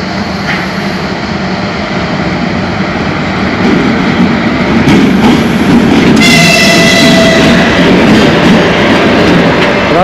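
The Chelyabinsk passenger train arrives at Lazarevskaya station in August, filling the air with a loud, continuous roar of wheels and rolling carriages close by that swells as it passes.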